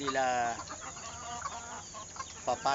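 Hens clucking and cackling close by while eating shredded fruit, with harmonic squawks at the start and again near the end, over a busy rustling background.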